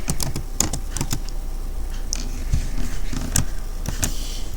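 Steady typing on a computer keyboard, a run of quick irregular key clicks with a few sharper strikes, close and moderately loud, with no talking.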